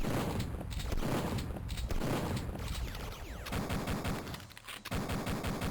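Automatic turrets in a Duke Nukem 3D mod firing rapid continuous bursts of gunfire, close and dense, with short pauses between volleys and no talk.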